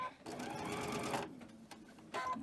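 A sewing machine stitches fabric strips onto a quilt, running in a steady close whir that pauses briefly partway through and then starts again.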